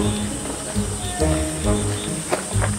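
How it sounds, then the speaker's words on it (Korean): Cicadas buzz in a steady, shrill drone on a hot summer day outdoors in Gyeongsan, Korea, a constant insect chorus filling the background with a few faint voices and thumps. "매미 소리 때문에 더 더운 것 같아."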